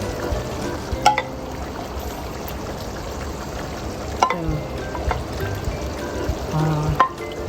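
Pork liver for menudo frying in a pan with potatoes and carrots, a steady soft sizzle and crackle throughout, punctuated by a few brief clinks and stirring knocks.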